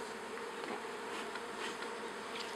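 Honeybees in an opened hive give off a steady, fairly quiet buzzing drone that holds an even level for a few seconds, with no voices.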